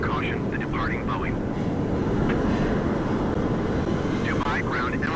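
Boeing airliner engines in a flight simulator, a loud steady jet roar held throughout, with brief radio-style voice fragments chirping faintly over it.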